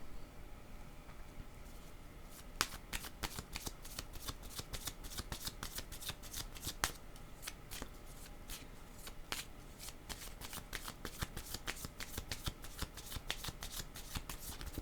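A deck of cards is shuffled repeatedly for a card reading, with rapid, close riffles and crisp flicks that repeat in quick bursts for several seconds, heard alone with no talk.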